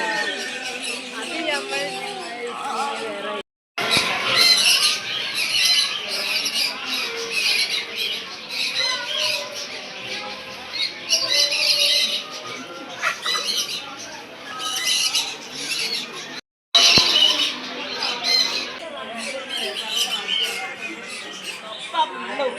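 Chickens and birds at a flower show exhibition in Wayanad, with repeated squawks and chirps up close, mixed with people talking nearby throughout.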